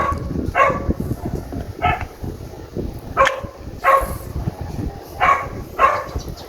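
A neighbor's dog barks about six times in a loose sequence, sharp and moderately close, over a low background rumble.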